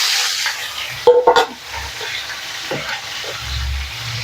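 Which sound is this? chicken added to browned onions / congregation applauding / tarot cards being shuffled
chicken added to browned onions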